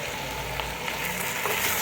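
Spice masala with cumin seeds hits a hot pan for aloo, producing a soft continuous sizzle and hiss, close and steady with no talking.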